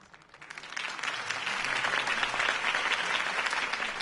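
Crowd applause at a political campaign rally in the Batman Telltale game, swelling quickly from quiet into sustained, dense clapping that holds steady and close.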